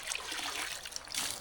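Water poured into a gold pan during a cleanout at a small seasonal creek, a soft, fairly quiet trickling and splashing pour lasting a moment with no talk.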